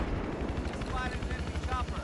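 Battlefield 4 gameplay with a helicopter and gunfire: dense, continuous rumble and rattling shots with a steady mechanical drone, loud and busy throughout, with faint voices mixed in.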